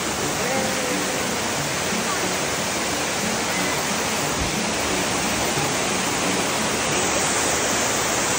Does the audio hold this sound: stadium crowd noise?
no